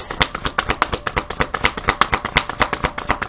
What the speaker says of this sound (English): I hear shuffle, shuffle, shuffle, shuffle.